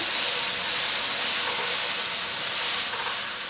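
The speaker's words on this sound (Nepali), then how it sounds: "अब यसलाई चाहिँ हामी नछोपी 1 मिनेट फेरि यसरी नै फ्राई गरौँ। बिचमा यसलाई फेरि चलाउँदै गरौँ।" Bell pepper frying uncovered in a pan for an asparagus pickle, giving a continuous, even, loud hiss of sizzling oil up close with no breaks and no talking.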